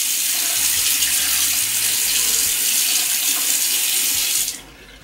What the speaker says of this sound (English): I'm basically just going to wet my skin